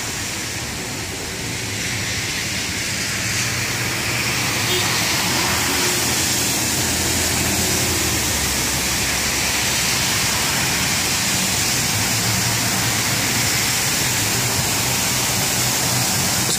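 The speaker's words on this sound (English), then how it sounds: "There come the waves." Floodwater rushing in waves during thunderstorm flooding in Broward, Florida, a loud, dense, continuous roar like a waterfall that holds steady throughout, with no voices.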